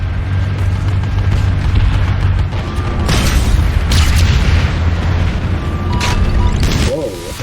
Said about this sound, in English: That guy legit shooting me with an anti-aircraft weapon.